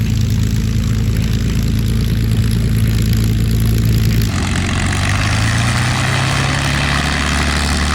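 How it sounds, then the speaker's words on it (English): A P-51 Mustang's propeller engine runs loud and close at an airport, a steady heavy roar with a deep throbbing drone that shifts in tone midway through. "P-51 at our airport. Look at the propeller on it."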